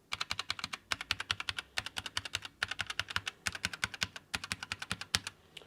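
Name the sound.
typing on MARVO KG962 mechanical gaming keyboard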